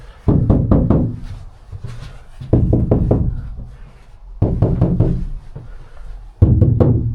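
Several bursts of dull, thudding knocks on a sound-deadened van panel, fist or knuckle blows in quick clusters separated by brief pauses, close and fairly loud.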